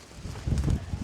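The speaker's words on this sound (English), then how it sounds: "So, do apologise about the wind" Gusty wind buffets the microphone, a rough low rumble that swells and eases over about a second, with no voices.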